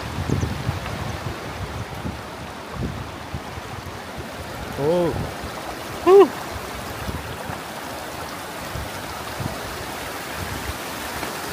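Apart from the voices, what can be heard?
flowing stream water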